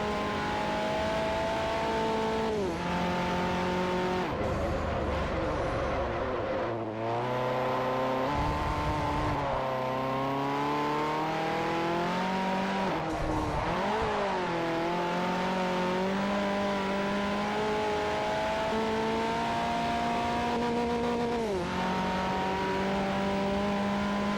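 Toyota Yaris rally car engine in the racing game Forza Motorsport 4, a loud continuous engine note that climbs through revs, drops sharply at gear changes and climbs again, with occasional tire squeal and no talk.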